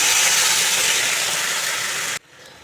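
Water left from boiling potatoes is poured into a hot pan for a hilsa curry with potatoes and eggplant, giving a loud, steady hissing sizzle that runs for about two seconds and then cuts off sharply to a faint, quiet bubbling.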